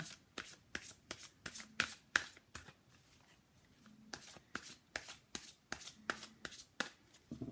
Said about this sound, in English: Let me just pull, let's see what Doreen Virtue's cards have to say here